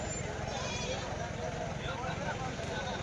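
Goats bleat at a weekly goat market in Kadiri, India, amid a noisy crowd of overlapping voices, the animal calls mixed into constant chatter and background bustle.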